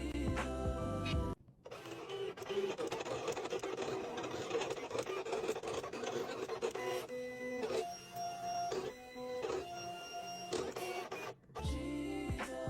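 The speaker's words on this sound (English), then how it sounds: "Let's listen to that sweet Protection Pro machine one more time before we have to say goodbye." Protection Pro cutting machine trimming a phone back protector, a close, steady mechanical whirring with rapid buzzing and stepping tones that shift pitch as the cutter head moves, with a few brief pauses.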